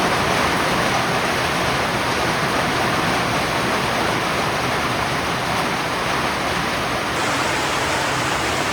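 Heavy rain pouring down on a village in a constant, loud roaring wash of sound, unbroken from start to finish.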